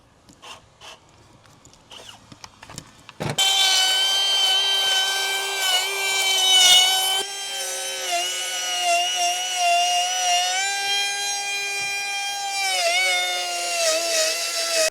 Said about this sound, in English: I guess it might be easier actually to drill a hole in the post